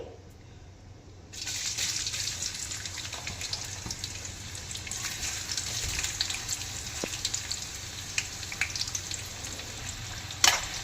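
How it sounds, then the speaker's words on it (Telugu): Bitter gourd pieces deep-fry in oil in a kadai. A quiet start gives way to a steady, close sizzle with scattered pops and light stirring, and no one speaks. "ఇలాగా కొంచెం కొంచెం వేసుకుంటా బాగా ఫ్రై చేసుకోవాలండి."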